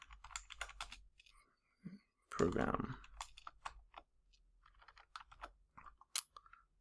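Keys on a computer keyboard clatter in quick irregular bursts, close and crisp, with someone speaking briefly in the middle.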